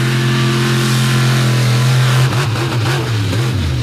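A monster truck's 1,600-horsepower, 572 cubic inch Oldsmobile engine revs loud and close, holding a steady roar and then blipping the throttle in quick surges.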